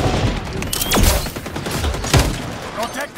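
AK rifle fire in XDefiant: a dense, steady stream of close, loud rapid shots fills the whole clip, with a couple of sweeping effects cutting through it and a voice faintly under the shooting.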